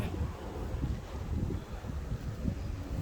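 Outdoor wind on a rural walk, gusting steadily into the microphone with low buffeting rumbles and rough bursts throughout, close and fairly loud, no talking.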